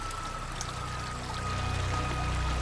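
A small stream of water trickles down a rainforest slope, making a continuous, steady pouring and gurgling sound at moderate volume with no voices.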